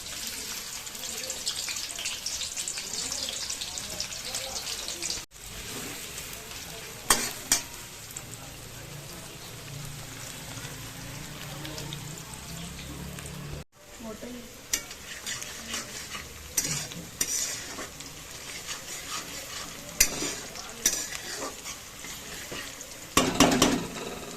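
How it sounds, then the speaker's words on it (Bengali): Sliced onions fry in refined oil in a kadai, a low, quiet sizzle under occasional spoon scrapes and stirring clatter, with two brief gaps in the sound. "আমি এখানে বেরেস্তা ভাজবো, তার জন্য আমি কড়াই বসিয়ে দিয়েছি আর দিয়ে দিচ্ছি রিফাইন তেল"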